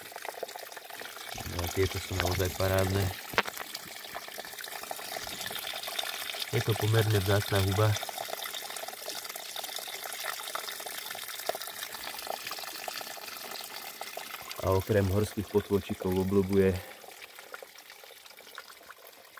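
Small mountain stream in Kysuce flowing steadily as a soft, continuous gurgling trickle close by, with a person talking over it in several stretches.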